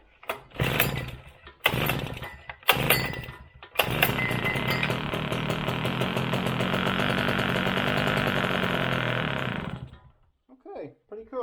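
A vintage tiller's small engine coughs through a few pull-start attempts, then catches and runs at a steady rattling idle for several seconds before cutting out, close and loud, with someone talking briefly.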